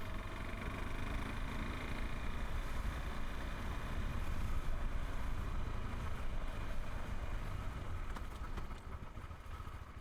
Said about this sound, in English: The KTM 390 Adventure.